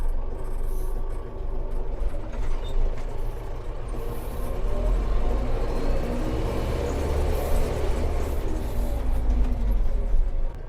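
A DTZ 5504NK truck pulls away with its gearbox set to fourth and the range half engaged, a steady loud engine drone with deep low rumble holding throughout, no talk over it.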